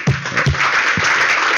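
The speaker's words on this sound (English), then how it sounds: "Please applaud." Applause from a conference audience welcoming a presenter to a technical session, a dense wash of clapping held at an even level, with a few low thumps from microphone handling at the start.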